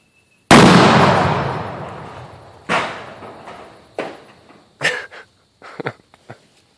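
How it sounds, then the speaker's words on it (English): Tannerite target packed with a TV is shot with a Winchester Featherlight rifle, producing one loud close boom that rolls away, followed by several fainter echoing cracks and thumps. "And I'm gonna blow this TV."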